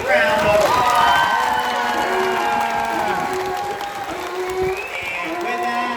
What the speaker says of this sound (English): So everybody, why don't you give Ella a big round of applause?